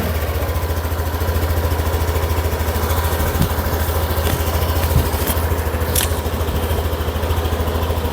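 A Yamaha Nmax V2 scooter engine idles steadily and loudly up close, a continuous even putter with no talk over it.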